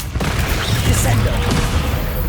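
Descendo spell cast in Hogwarts Legacy, a dense thumping slam with booming low rumble, loud and continuous over about two seconds of busy game combat noise.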